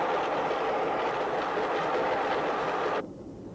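A diesel locomotive hauling a train rushes past at about 100 mph toward a nuclear waste flask in a crash test, a loud, dense roar that drops away abruptly after three seconds.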